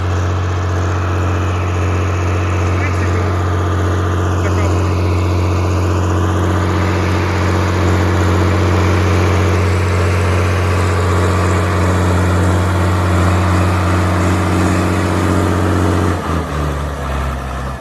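A heavy 120-horsepower tractor engine pulling a mounted reversible plough drones steadily and loudly at low pitch, laboring evenly, then its tone drops near the end.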